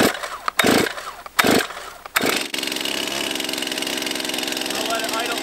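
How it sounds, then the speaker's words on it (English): A Stihl 261C M-Tronic chainsaw takes several rasping pull-starts with the choke in the lowest position, then fires and keeps running with a loud, steady buzzing drone. "we're gonna give the saw a couple pulls with it all the way down in that triangle position"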